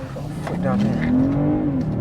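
BMW M340i petrol car engine accelerating, a rising growl that climbs steadily in pitch over about two seconds, loud and close, with someone talking over it.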